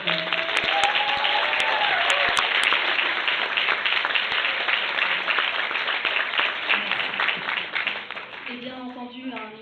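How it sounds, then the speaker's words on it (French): A crowd at an open-mic stage night gives a sustained round of applause for the volunteers, thick clapping with scattered whoops that fades toward the end as a voice starts talking. "Nos premières salves d'applaudissements de la soirée,"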